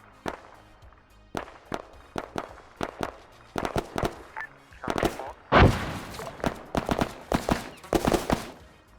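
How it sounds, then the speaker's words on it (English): Heavy gunfire in Arma 3, a military combat game, in an urban street fight: rapid, loud, closely spaced shots and bursts with sharp cracks and a bigger blast near the middle, continuing throughout. "we're taking heavy enemy fire from the south"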